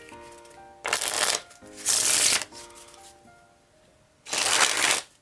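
Rocket Deck playing cards being riffle-shuffled up close, three crisp fluttering bursts of about half a second each separated by quiet pauses, with faint background tones.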